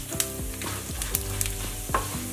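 Cumin, mustard seeds, chana dal and urad dal frying in hot oil for lemon rice, a steady close sizzle with a few sharp crackles and pops from the seeds and a spoon stirring in the pan.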